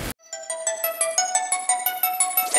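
A phone ringtone from repeated incoming calls plays a bright electronic melody of quick repeated tones, clear and alone.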